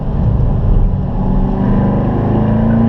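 Corvette engine on a racetrack at a driving school, a loud steady low drone with a slight shift in tone as the throttle eases off, no voices over it.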